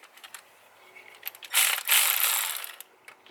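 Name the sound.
loosening torqued bolts on a Cummins engine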